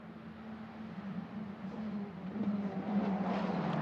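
An Italian F4 race car at Vallelunga drones through a downshift, a low engine tone rising gradually in loudness as it nears, heard from a distance.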